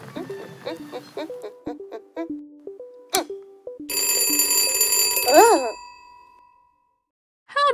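An alarm clock's bright, continuous electric bell ringing rises loudly after a series of plinking musical notes, then fades out into quiet.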